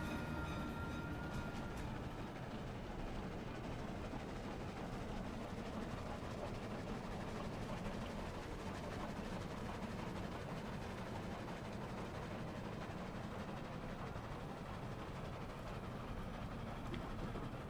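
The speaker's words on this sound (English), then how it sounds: "I'm gonna use the passenger train next run." A passenger train in a farming video game runs steadily with a continuous low rumble and faint rail clatter, holding a constant level throughout with no speech.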